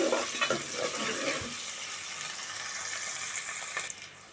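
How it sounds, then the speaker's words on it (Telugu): Onions and green chillies fry in a pan as the base for a drumstick chicken curry, with a close, steady sizzle and a few stirring scrapes and clinks early on, then the hiss carries on alone. "ఇప్పుడు వీటిని ఒక ఐదు నిమిషాలు పచ్చివాసన పోయేంత వరకు వేపుకుందాం"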